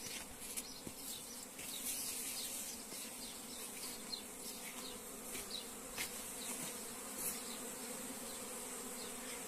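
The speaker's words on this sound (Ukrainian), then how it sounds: "Третій рій вилетів." A swarm of honeybees pours out of a hive at an apiary, a steady dense buzzing drone filling the air with no talk, individual bees occasionally zipping close past.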